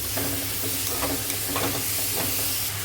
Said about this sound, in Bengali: কুচনো পেঁয়াজ আর ক্যাপসিকাম যে ডুমুডুম করে কেটে রেখেছিলাম দিয়ে দিলাম আর টমেটো কুচনোটাও অ্যাড করে দিলাম দিয়ে ভালো করে নাড়াচাড়া করবো